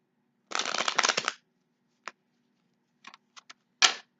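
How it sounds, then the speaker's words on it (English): A quick riffle of cards shuffled close up, followed by a few soft taps and clicks as the deck is squared. "let me go ahead and shuffle some more cards"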